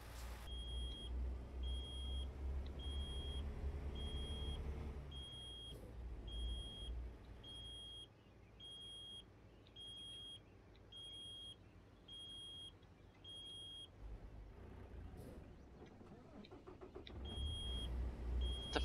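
Repeated electronic warning beeps from a truck in American Truck Simulator, steady evenly spaced tones over a low engine drone and road rumble, fairly quiet overall.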